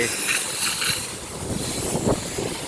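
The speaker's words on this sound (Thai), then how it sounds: "นี่ลมเย็น ๆ ครับลมเย็นๆของทุ่งนา" Cool wind blows across an open rice field, a steady rushing buffet against the microphone with gusts throughout and no voices.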